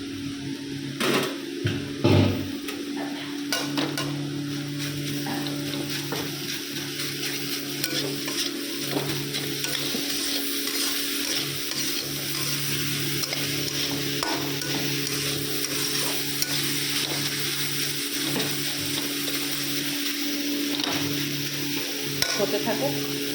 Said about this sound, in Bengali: পনিরটা একদম মিশিয়ে ফেলছি এটার সঙ্গে